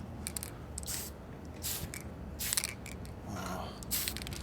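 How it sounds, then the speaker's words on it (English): A spray paint can gives short light hisses of mist onto a Transformers toy part, several brief bursts spaced a second or so apart, fairly close and with no talking. "Light taps on the spray can, guys. Do not go hard."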